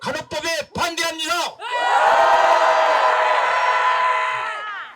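A rally crowd of Korean health and medical groups opposing a nursing bill lets out a loud, sustained collective shout, swelling and holding for several seconds right after a speaker's amplified voice.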